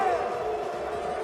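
A fired-up studio audience on the Arsenio Hall Show roars with a sustained crowd chant of barking cheers, dense and continuous, with no single voice standing out.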